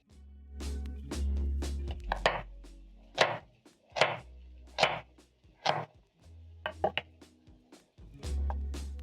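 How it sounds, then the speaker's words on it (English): A knife chopping a medium carrot on a cutting board, a dozen or so crisp, close knocks in an uneven rhythm with short pauses, over a low background hum. "I'm going to chop up 1 medium carrot"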